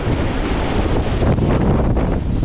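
Strong mountain wind with gusts of 45 to 60 mph roars on Bald Knob near Mountain Lake, Virginia, buffeting the microphone in a loud, continuous rush with no voices.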